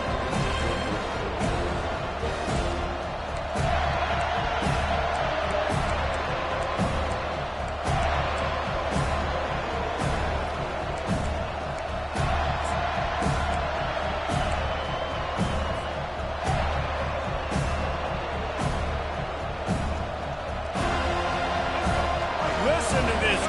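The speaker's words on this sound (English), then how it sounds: "Listen to this crowd just shaking the girders of this place, trying to help their defense." A packed stadium crowd at a Michigan vs Florida State college football game roars loudly and steadily, a dense, unbroken wall of cheering with sharper bursts rising now and then.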